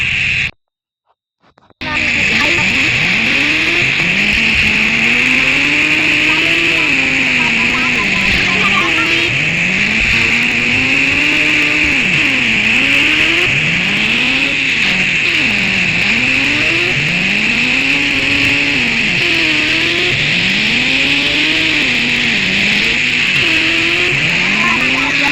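Video game motorbike racing with loud, continuous engine drone rising and falling through repeated revs and gear shifts, plus skidding, after a brief silent start.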